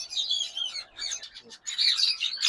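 Creamino and albino lovebirds in a breeder pair chirp in quick, bright twittering bursts, with a short pause midway before the chatter resumes, close and fairly steady.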